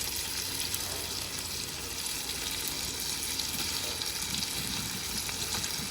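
Peshawari-style chicken karahi sizzles steadily and loudly in the pan as green chillies and tomatoes go in, a dense, even frying hiss that runs unbroken throughout.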